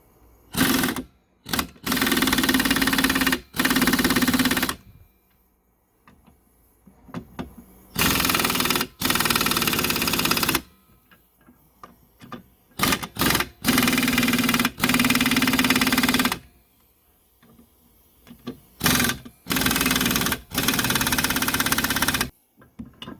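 Bolts on a Super Duty brake dust shield and shoe assembly being tightened with an impact wrench, giving loud rattling bursts of several seconds each, separated by short pauses, close up, with no talking.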